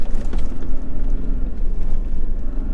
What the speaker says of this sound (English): We'll get a few more revs up so we can get out of 7.